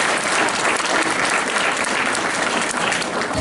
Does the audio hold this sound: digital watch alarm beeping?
no